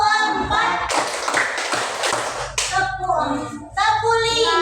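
Children in a classroom clapping game clap their hands in bursts of counted claps, brisk and fairly loud, between stretches of an adult voice talking.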